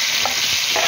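Meat fries with garlic ginger paste in a hot pan, giving a steady bright sizzle with a couple of soft stirring touches in a brief moment.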